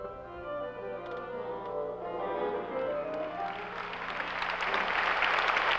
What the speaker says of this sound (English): The applause was enthusiastic at intermission after the Stravinsky